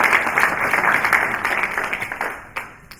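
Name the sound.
round of applause for summit panelists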